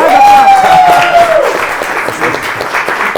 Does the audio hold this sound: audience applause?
yes